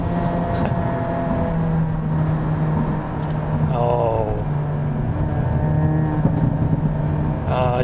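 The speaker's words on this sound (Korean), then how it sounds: "이렇게 멋지고 재밌는 배기 사운드를 그냥 따로 별다른 튜닝 없이 사자마자 느낄 수 있다는 건 이 아반떼 N이 주는 가장 큰 혜택이 아닐까 싶습니다" A Hyundai Avante N's exhaust drones steadily while driving, a loud, continuous engine and exhaust note with rising tones as it accelerates, a voice speaking over it.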